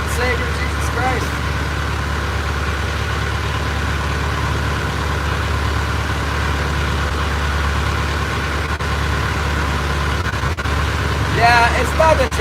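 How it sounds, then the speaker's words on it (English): Boat diesel engine running steadily in cold Alaska, a loud continuous low drone with a constant idle rumble throughout and a few faint clicks near the end. "it's not the transmission making a sound, it's the engine. It's the internal combustion engine."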